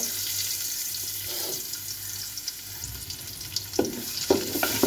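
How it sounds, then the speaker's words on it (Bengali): Onions fry in hot oil in a pot for vegetable and chicken pulao. A steady close sizzle runs under scraping and clattering from stirring, with a few louder knocks near the end. "পেঁয়াজটা ভেজে নিই।"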